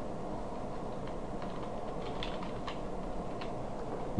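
Typing on a computer keyboard: a quiet, irregular patter of light key clicks over a low background hum, with no speech.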